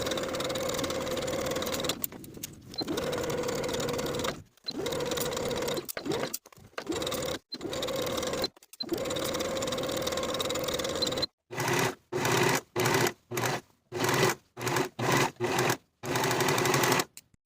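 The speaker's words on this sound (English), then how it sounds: "we can sew this crotch seam with a 3/8 inch seam allowance and finish the raw edges together" A sewing machine sews the crotch seam of pull-on pants in a series of runs, first long steady bursts and then rapid short stop-start bursts separated by brief silences.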